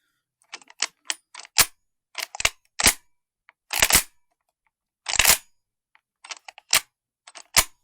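An Aselkon S4 GT air rifle mechanism gives off sharp, crisp mechanical clicks and clacks in irregular bursts, close up against near silence.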